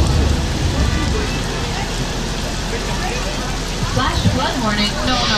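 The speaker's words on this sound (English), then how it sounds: "This is Movie Rain, brought to you by Sunshine. It's a sprinkler system." Artificial movie rain falls from a sprinkler system on a Hollywood set as a dense, loud, constant hiss and patter, and a voice talks over it toward the end.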